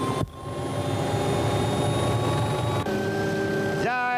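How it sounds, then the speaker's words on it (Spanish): The engines of a news helicopter run steadily on the ground before takeoff from the hangars at San Fernando near Buenos Aires. A loud, constant turbine whine and rotor roar comes close up, with a rising whine at the end. "De Nueve Diario se encuentra con los motores en marcha para partir hacia el procedimiento."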